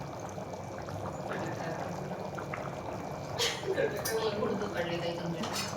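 Lemon juice poured into chicken biryani in a cooking pot, a short close liquid pour and splash over a low kitchen background, with a voice speaking briefly.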